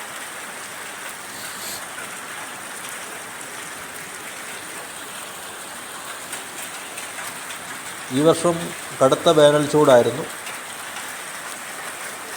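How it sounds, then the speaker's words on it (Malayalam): Monsoon downpour at Konni Medical College in Pathanamthitta, Kerala, a continuous steady hiss of falling rain, joined near the end by a voice speaking briefly over it. "മഴ പെയ്യുന്നതിൻ്റെ ദൃശ്യങ്ങളാണ്"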